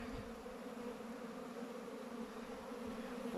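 A steady, dense buzzing of many honeybees swarms outside a hive during autumn varroa treatment, continuous and moderately close with no voices.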